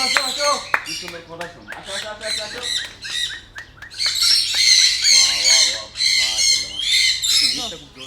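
Tame sun conure parrots let out shrill, piercing squawks in an open aviary, bursts close and loud in rapid runs, with people talking between calls.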